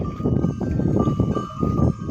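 Kangal sheep lambs call among farm animal noises, with a soft bell tinkling steadily in the background nearby.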